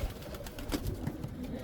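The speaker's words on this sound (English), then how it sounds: "This is another beautiful pigeon." Racing pigeon cooing softly against steady background noise, a low, faint murmur that continues through the short moment with no speech.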